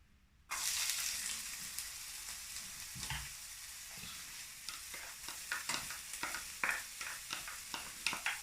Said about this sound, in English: I'm going to put the onions in now.